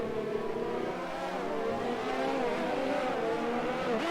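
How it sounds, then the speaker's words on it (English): Race car drifting around a double apex hairpin at the Austin circuit, its engine a loud, steady, close drone with wavering pitch and a hint of tyre scrub throughout, no voices. "as he's drifting his way around that double apex hairpin"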